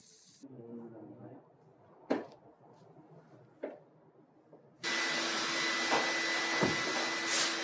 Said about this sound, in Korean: 요란한 청소기 소음에도